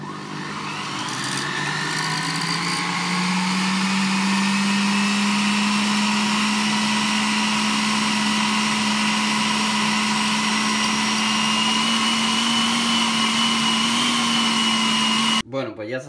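A Cecomix Plus food processor runs at speed 5 mixing yogurt cake batter, a steady loud motor whir that rises in pitch as it spins up and holds for about fifteen seconds before cutting off abruptly.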